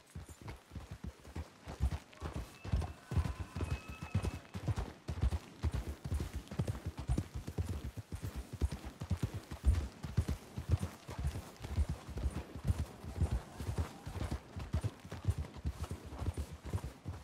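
Horse hooves clip-clop in a steady, brisk rhythm on a trail in the Western game Red Dead Redemption, a continuous near trot running the whole way with faint ambient tones behind and no talk.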